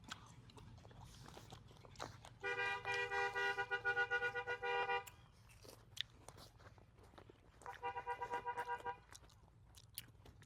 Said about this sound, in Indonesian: Kenapa kira-kira dia klakson-klakson kayak gitu?